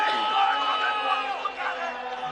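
Basketball arena crowd reacting to a foul call in a game against the Edmonton Stingers, a dense roar of shouting and booing voices filling the space, steady and loud throughout.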